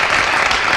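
Audience applause at a Christmas Eve holiday show, a dense steady clapping that fills the whole brief moment at close range, with no voices over it.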